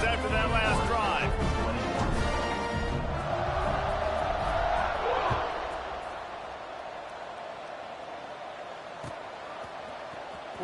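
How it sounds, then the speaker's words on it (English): Stadium crowd at a Vanderbilt versus Wake Forest college football game roars loudly and steadily after a scoring drive, a broad wash of cheering with a swell in the middle and a play-by-play commentator talking over it. "this crowd is feeling themselves after that last drive"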